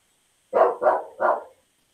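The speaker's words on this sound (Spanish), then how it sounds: "Nos contestó el perro, ¿vieron?" A small dog barks three times in quick succession, close and loud, then silence follows.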